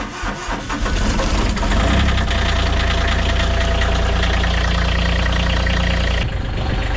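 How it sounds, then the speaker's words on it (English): A diesel tractor engine on a snowy road cranks over, catches and settles into a loud, steady idle with a deep rumble while it warms up, then cuts off near the end. No one speaks. "So while the tractor warms up a bit"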